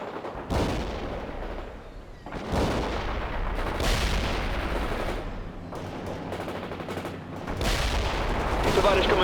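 Gunfire and artillery from the World in Conflict video game during an insurgent mission: loud, dense bursts of firing and booms repeating every couple of seconds, continuous throughout with battle noise.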